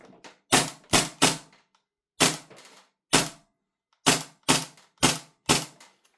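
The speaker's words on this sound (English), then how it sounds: "We're going to go back to some semi-auto here." A VORSK VMP1 gas airsoft gun fires in semi-auto, about ten sharp cracking shots in irregular bursts and singles, loud and close, separated by short silences.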